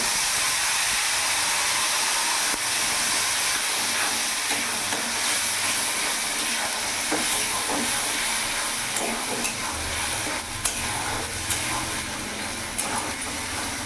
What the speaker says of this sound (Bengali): টমেটোটা একটু ভেজে নেবো যাতে টমেটোর কাঁচা ভাবটা চলে যায়।